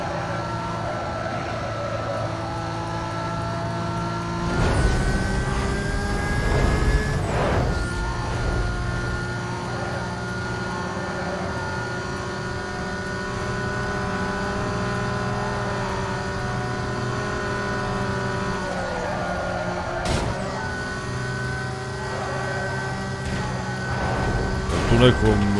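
Lamborghini engine droning steadily through a race in Need for Speed: Most Wanted, with a sustained mid-pitched tone and occasional revs and shifts, mixed under game sounds and a talking voice.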